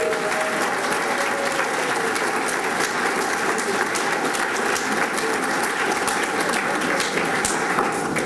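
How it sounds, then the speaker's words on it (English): A crowd at a Minnesota Senate campaign kickoff party breaks into sustained applause for Barb, a dense, even wash of many hands clapping that holds steady throughout with no break. "Barb, let's give her a round of applause"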